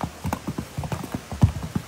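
Mule hooves clopping on asphalt in the rain during supply delivery in North Carolina after Hurricane Helene, a steady close rhythm of hoof strikes with a couple of louder hits, no talk.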